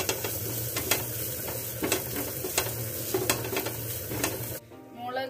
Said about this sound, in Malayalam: അതിലേക്ക് ചില്ലി പൗഡർ ഇടുക. നന്നായി ഇളക്കുക.